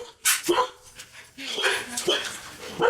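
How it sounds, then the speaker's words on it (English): A dog barks and yips a few times, with whimpering sounds mixed in, loud and close amid lively background voices. "I got doorbell and dog noise"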